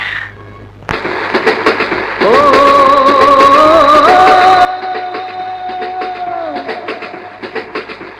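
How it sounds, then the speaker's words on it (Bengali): A passing train rumbles loudly with rhythmic clatter, then a long, sustained horn blast rises over the noise and fades out while the wheels keep clacking. "সবসময় দেখি ট্রেনের শব্দ শুনেই কোথায় যেন হারিয়ে যাও?"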